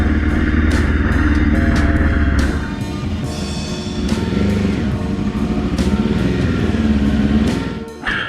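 A cheap secondhand motorcycle engine idles and runs roughly and loud, with a steady low rumble, a few clattery revs and a brief dip near the end.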